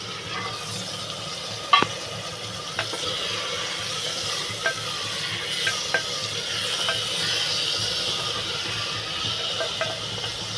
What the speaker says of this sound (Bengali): এবারে টমাটো আর কাঁচা লঙ্কাটা দিয়ে দেবো।